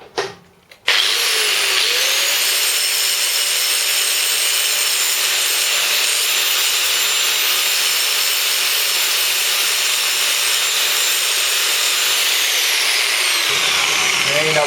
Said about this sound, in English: Just make sure you rip that off the edge off with the angle grinder there.